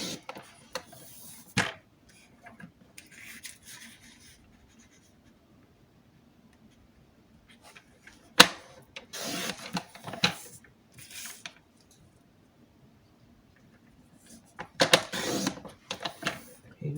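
Small pieces of paper are cut for scrapbooking: short, crisp bursts of cutting come close up, separated by quiet pauses, with sparse faint handling noises between.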